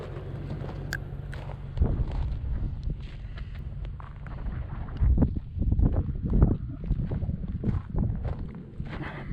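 Cold gusting wind buffets the microphone outdoors at a mine site in the desert near Primm, Nevada, a low steady rumble with louder surges and a few scuffs or knocks, no talking.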